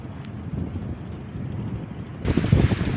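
Strong cyclone wind at the Sadarghat river port in Dhaka, a steady rushing roar buffeting the microphone that surges louder in a heavy gust near the end.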